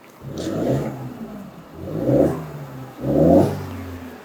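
A Mercedes C63 507 Edition V8 engine revs three times from cold, each throttle blip rising and falling, with short pauses between.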